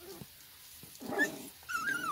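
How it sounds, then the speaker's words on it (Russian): Ten-day-old Akita Inu puppies growl and whimper in short, faint bursts, with brief quiet gaps between the small rumbling and squeaky sounds. "Два медведика, которые о как рычат."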